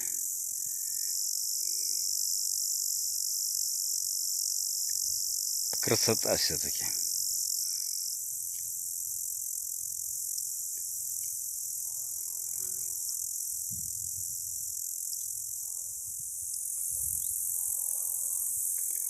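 Grasshoppers chirp in a dense, high continuous drone in the village of Cherga in Altai, with a short spoken remark and faint rustling in the middle.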